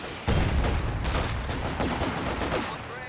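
A volley of gunfire rings out in a strategy video game, a dense sustained crackle of many shots at once that rises sharply and holds loud to the end.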